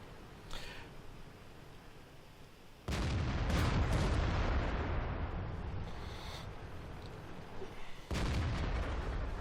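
SPG artillery fire in World of Tanks: a heavy boom bursts in suddenly and rolls on with a long rumbling tail, then a second blast hits near the end, both loud against a quieter background with faint earlier thuds.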